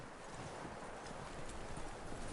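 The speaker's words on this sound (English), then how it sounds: "That looks like a decent horse. You should keep him. Get that horse hitched." Horse hooves clip-clop steadily on the ground in the western game Red Dead Redemption 2, a continuous rhythmic trotting under ambient outdoor noise, moderately loud and close.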